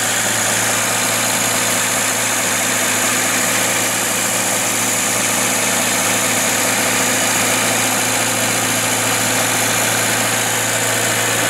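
A VAZ 2101-07 car engine idles with new ignition wires fitted, a steady, unbroken, close running hum with no revving and no pauses.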